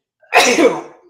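A single sharp human sneeze bursts out close and loud, then trails off quickly with no other sounds around it.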